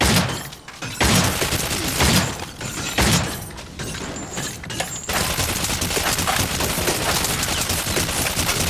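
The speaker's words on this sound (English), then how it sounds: "Stop shooting me!" Gunfire aimed at the player in the video game Cryostasis: loud, dense bursts of shots, broken by short lulls and then resuming as a sustained barrage.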